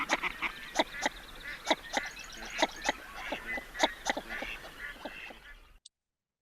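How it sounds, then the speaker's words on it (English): Northern shoveler ducks calling in a marsh, a busy run of short, clipped nasal notes, some in quick pairs, moderately near, with a second bird's calls overlapping. "And the suk suk of the northern shoveler."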